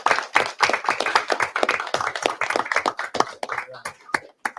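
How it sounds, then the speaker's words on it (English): Attendees at a board of trustees meeting give a round of applause, crisp scattered handclaps close by, with talking running alongside. "Another round of applause"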